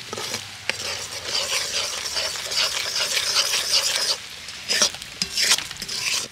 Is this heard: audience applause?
no